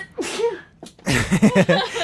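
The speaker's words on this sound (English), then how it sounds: "She sneezed so hard her glasses fell off." A single sharp sneeze, followed by bursts of nearby laughter.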